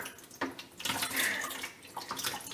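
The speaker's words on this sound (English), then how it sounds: "the way that's draining tells me something's definitely clogged" Water from a faucet running into a clogged sink that drains slowly, a steady close splashing and gurgling trickle with no voices.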